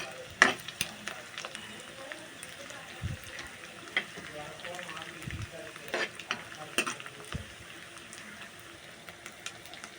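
Ingredients for egg fried rice stirred and frying in a pan: a steady low sizzle with intermittent scraping and clinking strokes of a utensil against the pan, close and fairly quiet, with a voice talking over it.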